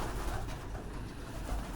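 Pigeons cooing softly in a backyard, a low continuous murmuring coo at moderate distance over quiet background noise.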